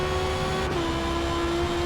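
A Porsche 911 GT race car in Gran Turismo at Mid-Ohio, engine held flat out at a steady high drone while accelerating down the straight, loud and continuous with no talking.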